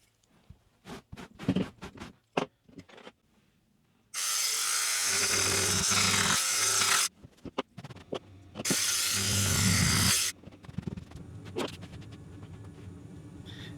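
Electric scissors carve the pile of a tufted gaming rug in two sustained, loud, buzzing bursts of about three seconds and two seconds, with quieter scraping and handling noises around them.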